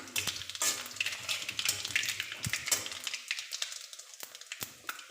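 Panch phoron spices temper in hot oil with dried red chillies for dal, giving a close, crackly sizzle with scattered sharp pops and a few stirring clinks that thin out toward the end.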